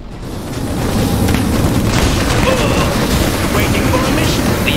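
Dense, continuous rumble of battlefield explosions and gunfire in a war video game, loud and sustained with overlapping booms and no break throughout.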